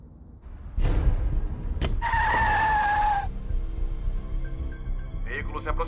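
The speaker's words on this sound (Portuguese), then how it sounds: "Veículo se aproximando" A car approaches and skids with a loud tire squeal lasting about a second, followed by rumbling engine noise and scattered metallic sounds, set in a police roadblock scene.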